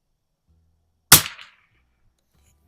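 A single sharp gunshot cracks from a 1949 Mossberg 144 rifle during target shooting, loud and abrupt with a brief decaying tail, surrounded by near silence.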